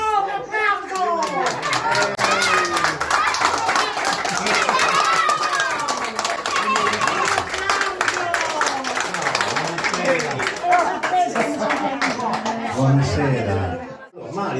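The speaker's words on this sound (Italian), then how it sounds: "un applauso!" Guests clap and cheer as a couple arrive at a 50th wedding anniversary party in Seneghe, the applause mixed with loud chatter and children's voices filling the room for most of the stretch.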